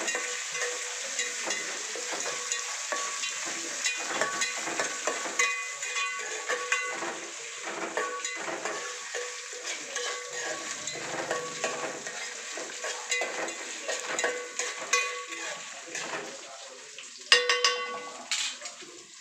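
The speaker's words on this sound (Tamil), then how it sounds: "அதை வந்து எண்ணெயில் போட்டு இந்த மாதிரி நல்லா வந்து கலந்து விட்டுக்கணும்." Ingredients for lemon rice sizzle and fry in hot oil while a spoon stirs them in the pan, giving a steady close crackle with repeated scraping strokes throughout and a brief louder clatter near the end.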